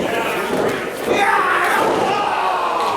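A wrestling show crowd roars and cheers loudly in a packed arena, swelling midway, with a few thuds from the ring and commentary talk underneath.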